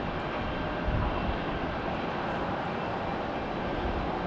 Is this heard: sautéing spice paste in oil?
no